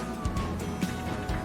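An ambulance siren wails amid busy traffic noise, a fairly loud, continuous wavering tone over a rumbling road background without speech.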